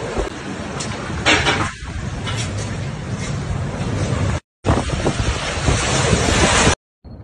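Storm surge waves pound the Turkish coast near the Dardanelles Strait in a violent storm, with a constant roar of surf and heavy wind buffeting the microphone, loud and continuous apart from brief cuts.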